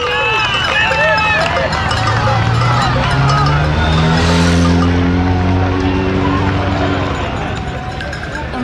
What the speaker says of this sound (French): Donc on entend les moteurs très très fort